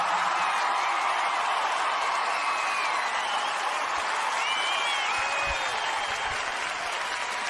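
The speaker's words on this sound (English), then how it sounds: "One more round of applause for our wounded vets." Large comedy-show crowd in South Texas applauding wounded veterans, a loud, continuous roar of clapping with occasional whoops and cheers rising above it, sustained for the whole stretch.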